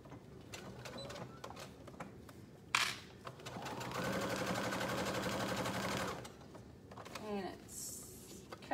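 Sewing machine stitching a zipper onto a 3-ring binder pencil pouch, running in a steady rapid whir for about three seconds mid-clip, with shorter bursts and handling sounds around it and a voice talking nearby.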